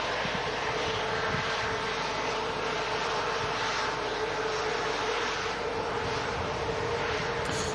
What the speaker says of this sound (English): Finnair rolling back out now,